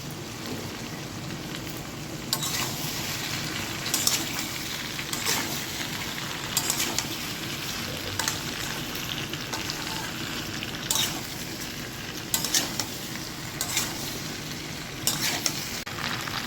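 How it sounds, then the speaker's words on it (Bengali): Taro roots being added to potatoes and eggplant frying in a pan, a steady rain-like sizzle with repeated scraping and clinking of a spatula stirring at intervals, no one speaking. "আলু বেগুনটা আমার ভাজা হয়ে গেছে এবার কচুরমুখিগুলো আমি দিয়ে দিচ্ছি"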